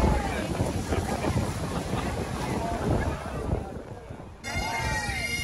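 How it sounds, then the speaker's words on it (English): Strong wind buffets the microphone outdoors on the Shetland Islands during the Up Helly Aa fire festival in Lerwick, loud rumbling gusts that ease briefly before returning. "It's very windy."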